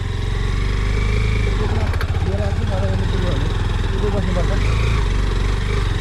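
A motorcycle engine chugs loudly and steadily up close, labouring with a rhythmic throb as it climbs a steep hill road, while someone talks over it.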